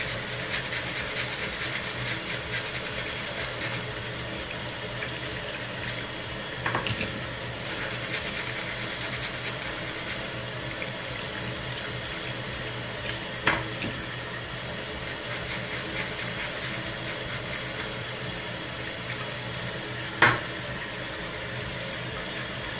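Steady running tap water fills the background, with a few brief clinks and knocks of salon implements being washed in a sink.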